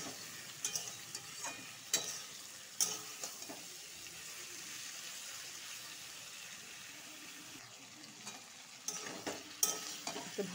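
Pointed gourd cooked with biryani masala sizzles steadily in a pan, broken by sharp scraping stirs at irregular intervals, with no talking.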